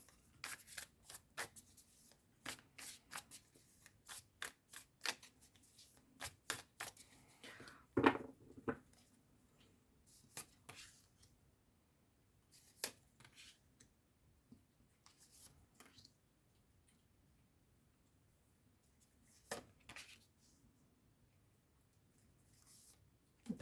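Tarot cards are shuffled and flicked in quiet bursts, with soft rustles, taps and a few sharper slaps as cards are laid down, close and intimate.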